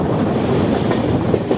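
A Secunderabad–Guntur intercity train hauled by a Krishnarajapuram-shed WAG locomotive runs near New Guntur station, a loud, steady rolling rumble with faint wheel clatter and no voices.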